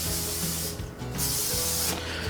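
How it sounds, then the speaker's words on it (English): Canola oil cooking spray hisses from an aerosol can onto a baking sheet in two long generous bursts broken by a short pause, close and clear, with no talking. "I just got regular canola oil spray, and we're just gonna spray it pretty generously."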